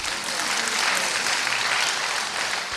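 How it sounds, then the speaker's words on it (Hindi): An audience claps for itself at a spiritual talk, producing dense, steady applause from many hands that stays loud and even throughout. "अब अपने लिए आप ताली बजाओ क्योंकि आप सब पास हो गए।"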